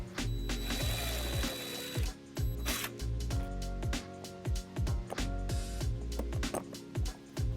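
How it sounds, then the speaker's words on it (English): A power tool drives screws to mount a trailer wiring bracket on a 2009 Hyundai Tucson, heard as close, repeated short mechanical whirring bursts separated by brief pauses, with no talk. "So we're gonna mount our bracket right here using these screws."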